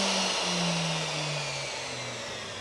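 A Hitachi M12VE half-inch router runs steadily after a soft start, a loud continuous high whine with a slowly sliding low hum, alone without talk.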